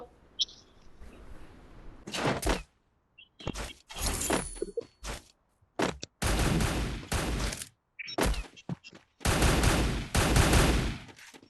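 Gunfire in a Garena Free Fire match comes as repeated loud bursts of rapid shots separated by short silences, with a few isolated cracks between the volleys.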